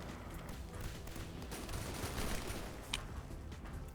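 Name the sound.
missile barrage in video game Gearbits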